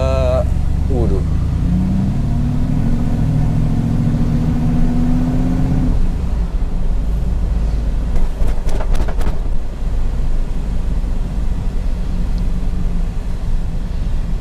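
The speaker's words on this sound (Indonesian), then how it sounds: "Suaranya tuh emang bener-bener menggelagar banget ya, khas banget V8, V8." A V8 engine swapped into a Daihatsu Xenia revs close by with a deep, steady rumble, heard under someone talking.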